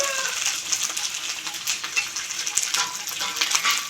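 Ginger, cumin and coriander paste fries in a hot pan, giving a dense, continuous sizzle with faint stirring scrapes, close and steady throughout.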